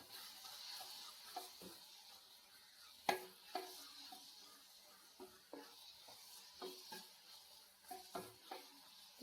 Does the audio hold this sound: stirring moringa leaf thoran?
yes